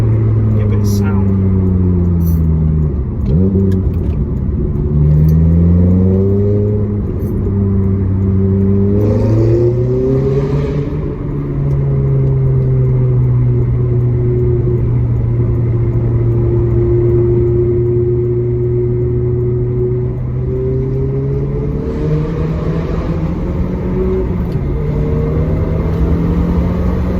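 Ferrari F430 engine droning loud and close through an underpass with a window open, pitch rising and falling with revs and gear changes, tyre and road noise beneath, steady throughout.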